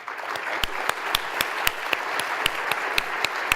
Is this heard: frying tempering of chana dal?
no